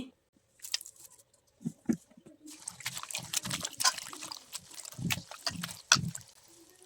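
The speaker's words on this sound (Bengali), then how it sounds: "এখন আমি সজনার ফুলগুলোকে ধুয়ে নিচ্ছি" Drumstick flowers being washed by hand in water, irregular close splashing, swishing and dripping that grows busier after a short pause, with a few handling knocks.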